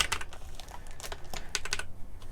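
Quick bursts of computer keyboard typing, close and crisp, with clustered keystrokes and brief pauses between short runs.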